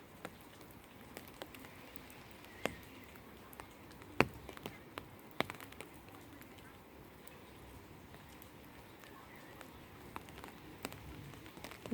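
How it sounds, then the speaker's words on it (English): Gentle rain falls outdoors as a faint, steady patter, with scattered sharper drips ticking now and then. "Maybe you can notice the sound of the gentle rain"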